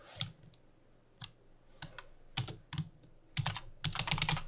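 Computer keyboard typing in a quiet room: clusters of light plastic key clicks, sparse at first then speeding into a quick burst of keystrokes, close and moderately soft with no voice.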